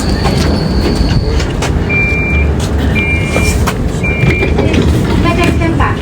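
A Nottingham tram on the Clifton South line rumbles along loudly, with an insistent repeating electronic beep sounding three times above the low rolling noise of the running car.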